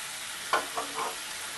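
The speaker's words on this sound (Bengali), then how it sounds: "এবার ভালো করে মিশিয়ে দেব।" Fried potatoes and masoor dal fritters are stirred in a pan for a bottle gourd curry, three distinct spoon scrapes cutting through a soft, constant sizzle.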